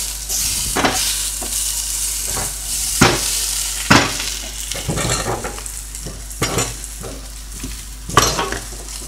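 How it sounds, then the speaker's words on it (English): Onions fry in T-bone steak juices in a pan, with a continuous sizzle up close and loud, repeated scraping knocks of a utensil stirring against the pan. "Carry frying off the onions in the lovely steak juice."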